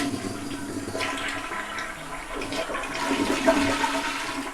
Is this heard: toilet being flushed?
yes